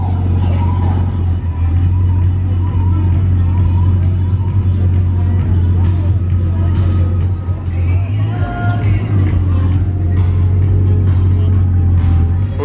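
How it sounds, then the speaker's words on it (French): Cars including a Bugatti Chiron from Dubai drive back past the Carlton, giving a loud continuous engine drone and rumble from close by, with a voice talking over it. "Allez, c'est parti, les voitures reviennent."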